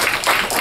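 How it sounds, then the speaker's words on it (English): A church congregation claps together in a brief burst of applause, a dense, fairly loud patter of many hands lasting under a second. "Give him a hand clap."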